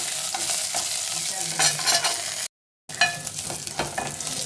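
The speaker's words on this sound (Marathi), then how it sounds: "परतून घ्या थोडंसं." Crushed garlic and cumin sauté in a pan with a steady broadband sizzle and repeated stirring scrapes, loud and close, broken by a brief silent gap partway through.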